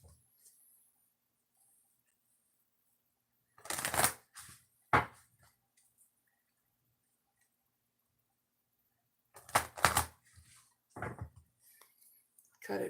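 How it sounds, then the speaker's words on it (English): Oracle cards are shuffled in two short riffling bursts separated by quiet, with a few soft taps and rustles in between. "Shuffle this 3 times,"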